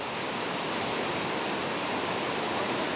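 General Stronghold Waterfall on Mount Mang, a source of the Pearl River, pours in a steady, dense rush of falling water that stays even and unbroken throughout, with no voices.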